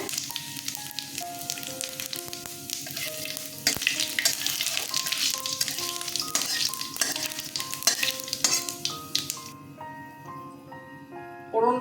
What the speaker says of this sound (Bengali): শুকনো লঙ্কা তেজপাতা দিয়ে দিলাম আমি সর্ষের তেল দিয়েছি জিরে দিয়ে দিলাম ফোড়নে